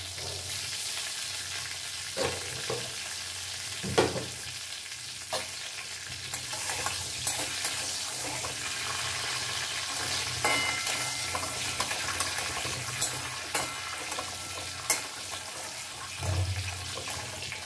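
Red mustard seeds frying in hot oil, a steady close sizzle with occasional sharp pops and crackles, heard alone without talking.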